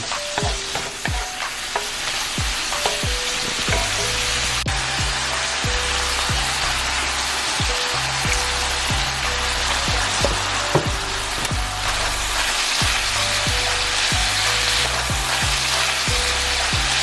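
Chopped meat browning in a pan for a chopped cheese sandwich: a loud, continuous sizzle and frying hiss runs throughout, broken by repeated scraping and knocking strokes of a utensil stirring the meat.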